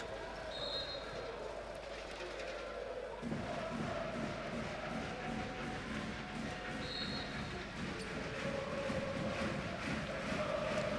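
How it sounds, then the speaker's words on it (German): Austria supporters at an indoor football tournament in a city hall arena cheer and roar as a continuous crowd din, with a commentator talking over the noise and a ball thudding on the hard floor. "Jubel natürlich bei den Austria-Fans"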